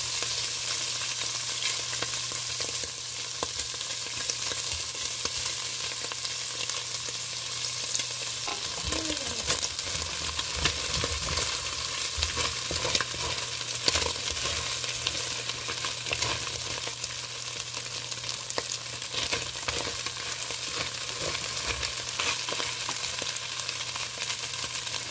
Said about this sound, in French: Le but, c'est vraiment que notre poêle soit chaude avant de commencer pour que ça vienne cuire